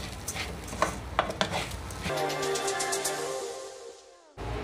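Rice sautéed in a pot for rice with broccoli: a spoon scrapes and taps against the pot over a gentle sizzle, then a softer steady hiss fades before a short louder burst at the end.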